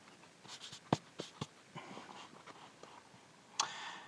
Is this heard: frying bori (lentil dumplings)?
no